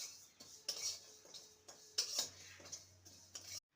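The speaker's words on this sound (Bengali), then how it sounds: "শুকনো খোলায় ভেজে নেব।" Black mustard seeds, whole cumin and radhuni dry roast in a pan with no oil, giving a series of sharp metallic scrapes and clinks from stirring at an irregular rhythm, close and fairly quiet.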